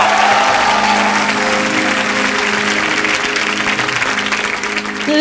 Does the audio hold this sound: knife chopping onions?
no